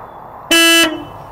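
A single short vehicle horn beep, loud and close, sounded while travelling along the River Severn past a Sunday fishing competition, rising sharply over quiet background noise.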